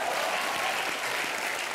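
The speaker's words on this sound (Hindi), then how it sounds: "चेतन जी के लिए एक और बार ताली बजाओ" A comedy show studio audience claps in a brief, dense, steady burst of applause, loud and close throughout with no voices.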